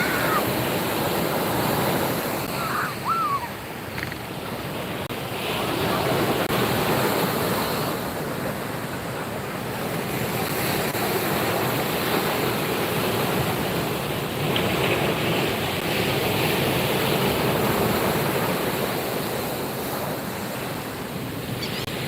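Ocean surf breaking steadily on an Ocean City, Maryland beach during surf fishing, a loud continuous wash of waves with wind noise buffeting the microphone.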